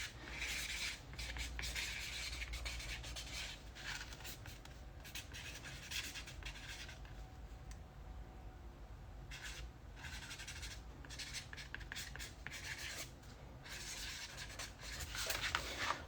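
Steady scratching of a pen or pencil writing by hand on paper, close and continuous with short pauses, with no talking over it.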